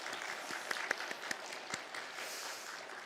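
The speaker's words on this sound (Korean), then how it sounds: "감사의 격려와 감사의 박수하도록 하겠습니다" A church congregation claps in steady applause, with a few sharper individual claps standing out, moderately distant.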